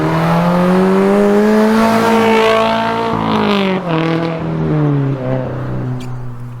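A 2022 Subaru BRZ fitted with a K&N intake revs hard toward 4,000 RPM, a loud, close engine note that climbs steadily, then falls and settles into a lower drone.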